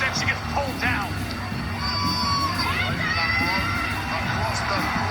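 A wrestling arena crowd reacts loudly to a match, a sustained roar of cheering, shouts and whoops that fills the whole stretch with no break.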